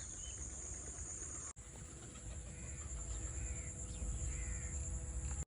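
Crows and other birds call repeatedly around a farmhouse, with several harsh caws over a steady background of chirping, insects and outdoor hum.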